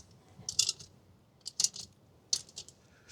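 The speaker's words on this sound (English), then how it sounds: "take your wrench, and tighten them down" A wrench tightens bolts on a camper T-chock wheel stop, with three short bursts of close metallic clicking and ratcheting separated by pauses.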